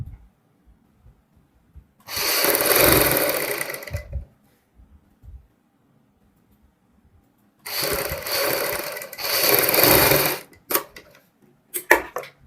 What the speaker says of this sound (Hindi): यहाँ पे सबसे पहले हम सिलाई लगाएंगे